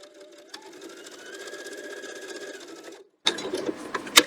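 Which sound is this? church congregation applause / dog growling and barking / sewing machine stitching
sewing machine stitching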